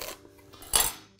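A knife knocks against a cutting board while root vegetables are cut for sturgeon soup: one faint tap, then a sharper, louder clack with a ringing metallic edge, and no talk.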